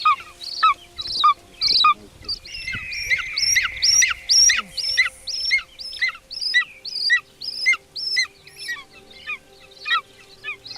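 A golden eagle kept by Kazakh eagle hunters gives a long series of sharp, high yelping chirps in a steady rhythm, loud and close, with brief quiet gaps between the calls.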